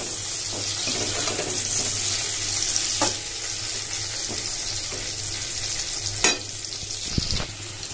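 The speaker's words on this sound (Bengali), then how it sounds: "এই দেখো ছিমগুলো কত সুন্দর ভাজা হয়ে গেছে" Flat beans (shim) frying in a pan with mustard-poppy seed seasoning, a steady close sizzle and crackle filling the whole stretch, with a few sharper pops and stirring scrapes and no talking.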